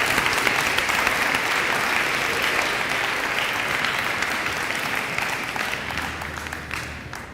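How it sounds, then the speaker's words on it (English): An audience at a spring sports awards ceremony claps for a middle school tennis team, a loud, steady wash of many hands that slowly tapers off near the end. "Give them one more round of applause."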